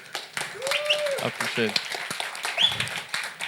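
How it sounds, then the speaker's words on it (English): Conference audience applauding two panel speakers at an AI talk, a dense wash of clapping throughout with a nearby voice speaking over it. "let's give these two a huge round of applause"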